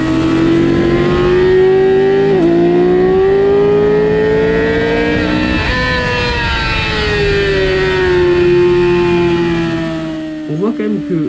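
A loud motorcycle engine whines at high revs on a race circuit, holding a steady pitch that climbs slowly and dips at gear changes as another bike overtakes on a sweeping curve, with rising wind noise and a brief rev burst at the end.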